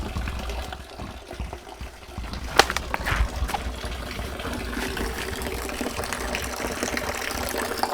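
Water pours steadily from a hose or half-inch poly line into a 55 gallon drum, a constant close rushing and gushing that holds the same level for the whole stretch, with no talking.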